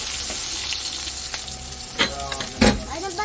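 Food sizzles in a hot pan while a sweet and sour dish is cooked at home, a close, steady frying hiss broken by a few sharp crackles and the clatter of stirring utensils near the end.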